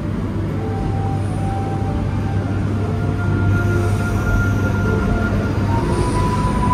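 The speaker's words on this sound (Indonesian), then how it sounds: "kereta api Ranggajati" Ranggajati passenger train running on rails, a loud steady rumble of wheels on track with a sustained low hum, continuous for the whole stretch, with no voices.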